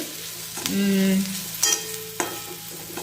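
Green peas fry in a pan for an eggplant bharit, giving a soft continuous sizzle with a few sharp spoon clinks and scraping stirs against the metal.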